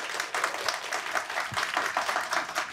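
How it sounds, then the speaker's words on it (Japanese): Applause rings out to welcome the winner of the 11th race at a boat racing Trial 2nd event, steady and dense from start to finish with no speech over it. "大きな拍手でお迎えください。"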